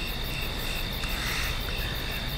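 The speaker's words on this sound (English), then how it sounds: "And now we hear crickets and a hoot of an owl." Night-time crickets in a video game chirp in a steady, dense, high-pitched trill that continues without pause throughout, with a faint ambient bed underneath.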